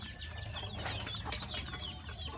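Hens and chicks clucking on a farm during a rainy spell, the mother hens moving about; a steady cluster of close, continuous clucks and soft peeps over a low background hum, with no talking.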